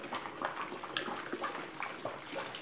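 Four litres of hot water pour into a container for homemade liquid soap, giving a soft, continuous splashing and gurgling with no talk.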